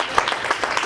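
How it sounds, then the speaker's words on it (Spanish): A church congregation claps for the Lord during a Spanish-language sermon, a short burst of quick, fairly loud, uneven handclaps in a steady rhythm. "Dele palmas al Señor."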